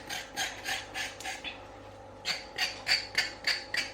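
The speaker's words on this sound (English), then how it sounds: "I always scrape the carrots" Raw carrots being scraped with a knife in a home kitchen: a series of rhythmic, close rasping strokes, about six in a row, a short pause, then six more quick scrapes.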